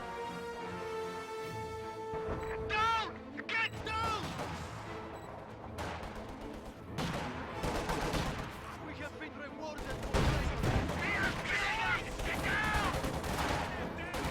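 Video game gunfire as Stern Pioneers shoot at conscripts: sustained bursts of rifle and machine-gun fire with a few explosive cracks over a busy battle din, moderately distant.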